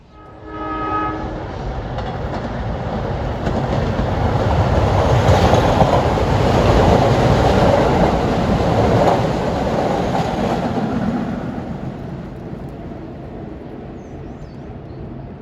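An express New York subway-type commuter train to Tottenville passes close by, swelling into a loud rumbling roar with a brief Westinghouse AA2 horn blast at the start, then fading away.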